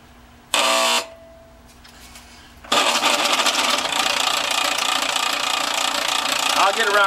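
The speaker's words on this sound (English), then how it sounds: "Now, I have the part mounted in the chuck. I'll plug in the lathe." A lathe with a part mounted in its chuck, after a short buzz and a quiet pause, starts and runs with a loud, steady mechanical roar close by for the rest of the clip.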